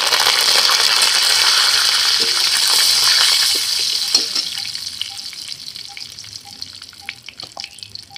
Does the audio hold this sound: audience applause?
no